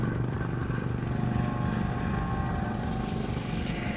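Helicopters hovering overhead in the Battlefield 4 video game, a loud, steady rotor chop with a droning engine hum, continuous and close throughout.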